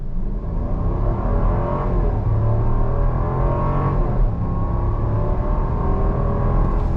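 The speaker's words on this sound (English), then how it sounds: "Let me do another on throttle now that we're officially in sport mode." A 2022 Jeep Grand Cherokee SUV in sport mode pulls hard under throttle, its engine note rising in a steady, loud, continuous drone with no voices over it.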